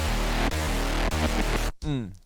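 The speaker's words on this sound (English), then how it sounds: "it has like that very kind of dark distortion." A heavy, Reese-style synth bass run through a Cable Guys ShaperBox DriveShaper growls through sustained notes with gritty, dark saturation, cutting off abruptly before a short vocal-like tail.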